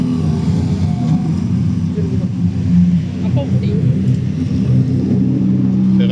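Porsche race car at the 12 Hours of Spa racetrack, a loud sustained engine roar rumbling close by throughout with a slight swell midway, with crowd noise and talk mixed in.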